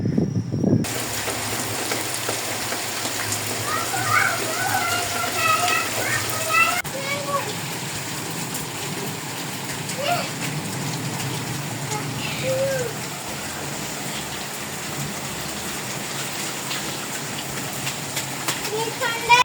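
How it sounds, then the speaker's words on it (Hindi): Heavy rain pours down during a stormy spell with strong wind, a constant hissing wash with small splashes throughout, while people talk softly underneath. "खैर इतनी तेज़ बारिश हुई"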